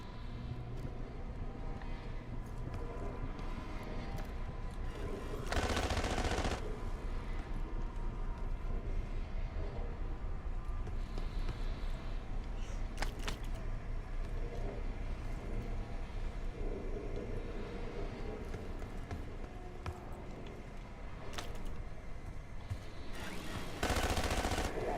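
Sustained gunfire in the video game Call of Duty Black Ops 6, a dense continuous rattle of automatic fire with a few louder bursts standing out, filling the whole stretch with little else audible.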